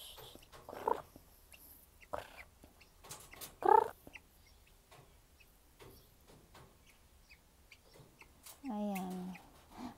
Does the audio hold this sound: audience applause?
no